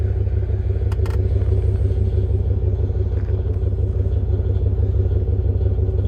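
A 2022 GMC Yukon AT4's 6.2-liter V8 idles steadily up close, a deep, even low-end rumble with a faint mechanical clatter running through it and no speech.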